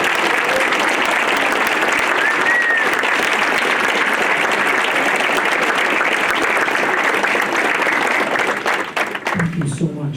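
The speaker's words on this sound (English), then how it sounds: "Now, that applause was appreciated" An audience applauds school staff as they stand at a teacher award event, a loud, sustained wash of clapping from many hands that tapers at the end as a voice begins speaking.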